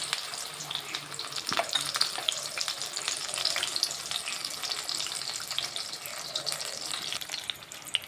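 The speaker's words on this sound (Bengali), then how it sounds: "একদম অল্প আঁচে আস্তে আস্তে করে ভেজে লাল লাল করে ভেজে নিতে" Continuous bubbling sizzle of chops frying in oil over low heat, fairly loud and close, with a brief clink near the start and no talking.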